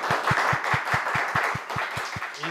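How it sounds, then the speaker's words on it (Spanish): Audience clapping for an invited speaker at an architecture seminar, with one loud nearby pair of hands beating a steady even rhythm over a softer scattered crowd. "Pues le damos un muy fuerte aplauso a nuestra invitada de hoy."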